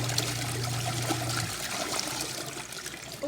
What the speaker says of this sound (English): as you can see, it's draining